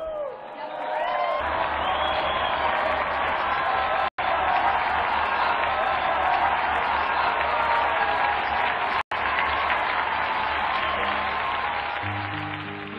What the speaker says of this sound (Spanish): Brindemos nuestro vivo aplauso a San Francisco de Sales.